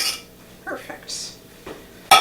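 A spoon scrapes and clinks lightly against a cooking pot in a home kitchen, a few soft, brief stirring touches with gaps between them and a sharper clink at the end.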